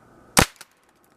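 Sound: DIY explosive paintball with 16 ring caps fired at tree

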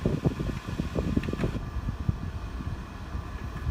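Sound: fan running

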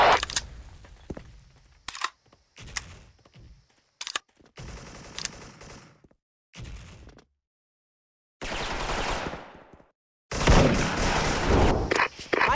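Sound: grenade explosions and gunfire in SF Rush video game

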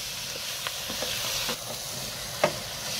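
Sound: stirring noodles with masala in a pan

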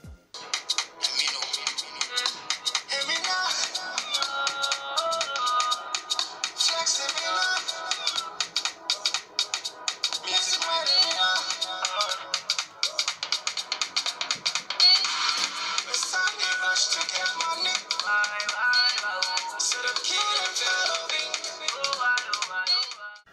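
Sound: Oppo A5s phone loudspeaker playing a ringtone

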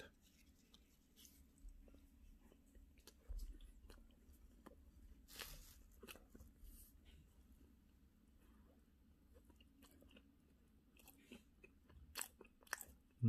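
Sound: biting and chewing vegan pumpkin rice bread

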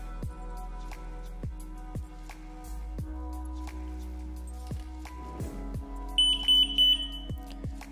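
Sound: Kronos parachute startup beep

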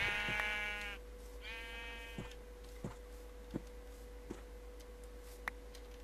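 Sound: sheep bleating in the video game Minecraft

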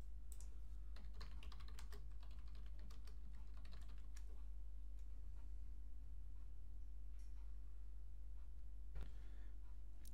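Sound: typing a command on a computer keyboard

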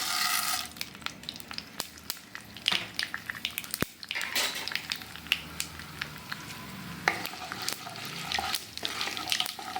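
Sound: mustard seeds sizzling in hot oil

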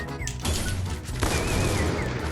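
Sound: gunfire in the video game Free Fire

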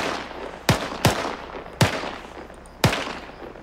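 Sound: machine gun fire in the video game Arma 3

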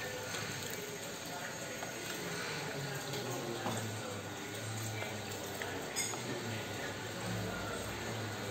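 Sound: water added to washed shirataki rice in a pot

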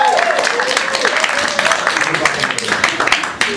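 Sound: audience clapping

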